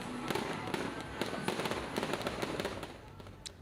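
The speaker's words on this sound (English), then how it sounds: "after the mast fell, celebratory fireworks lit up the sky" Celebratory fireworks burst at night after a college football game, with a rapid string of sharp cracks and pops over a continuous roaring crackle that runs for several seconds and thins out toward the end.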